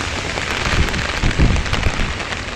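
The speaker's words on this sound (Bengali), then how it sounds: "বৃষ্টি এখনও থামেনি" Heavy rain pours steadily on a flooded town street in Cox's Bazar, a dense close hiss of drops hitting water and hard surfaces with no voices.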